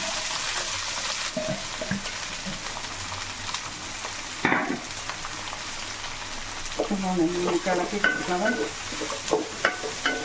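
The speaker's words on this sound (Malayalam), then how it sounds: "ഞാനിവിടെ നാല് സബോള അരിഞ്ഞെടുത്തിട്ടുണ്ട് കുറച്ച് കറിവേപ്പില ഇട്ടിട്ടുണ്ട് ഇതൊന്ന് വഴത്തിയെടുക്കണം" Four chopped onions and curry leaves sizzle steadily in hot oil while being stirred, a dense frying hiss with occasional scraping, as someone talks over it.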